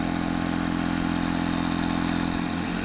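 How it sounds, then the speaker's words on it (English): Electric pump inflating the drop-stitch floor of an Itiwit X100 kayak, a loud, constant motorized drone with a rapid rattling pulse, steady and close with no talk. "Now we're pumping up the drop stitch floor."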